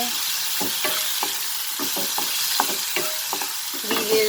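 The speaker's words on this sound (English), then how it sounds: "saute this over medium flame till the masalas gets cooked." Masala spices sautéing in a pan over a medium flame for a raw papaya curry, a steady loud sizzle with quick repeated scraping strokes of a spoon stirring, close by, and a brief voice near the end.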